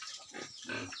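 Duroc pigs on a newly started small pig farm grunt in short, close, rough bursts, two or three grunts in quick succession with no talk over them.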